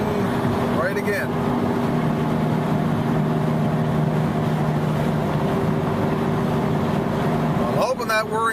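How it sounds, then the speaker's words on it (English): A worn wheel bearing on the left side of a vehicle whirs while driving on a highway, a loud steady droning hum under road and engine noise throughout, with brief rustling bumps near the start and end. "I'm hoping that whirring noise is coming through"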